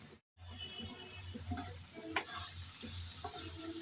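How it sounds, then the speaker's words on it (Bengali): Taro stolons frying in an uncovered pan, a quiet steady sizzle with soft scraping stir strokes from a spatula breaking through at irregular intervals. "আমি ঢাকনা ছাড়াই নেড়ে চেড়ে ভালোভাবে কচুরলতি রান্না করে নেব"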